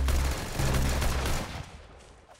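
Gunfire from the Roblox game Arsenal bursts in rapid, dense volleys for a couple of seconds, then trails off.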